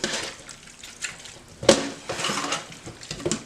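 Chicken gizzards and livers swished around in a bowl of water for washing, giving soft sloshing and splashing with one sharp clink partway through, close and moderately loud.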